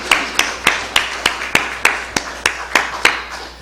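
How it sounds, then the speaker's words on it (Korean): A congregation claps together during a church service: about a dozen sharp, evenly spaced claps in a steady rhythm, fairly loud and close, with no talking. "박수하겠습니다."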